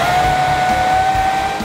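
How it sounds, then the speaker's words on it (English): A blender whizzes muffin batter made of almond milk, eggs and grated pear. The motor gives a steady, close whir throughout the short stretch, with no talking. "Now I'm going to whiz all of this up."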